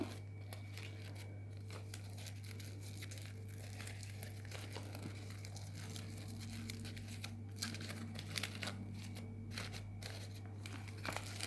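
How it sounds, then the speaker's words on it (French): A paper doily being crumpled by hand for a flower craft gives soft, scattered crinkles and crackles in bursts, close but faint over a steady low electrical hum. "j'hésite pas à froisser mon napperon"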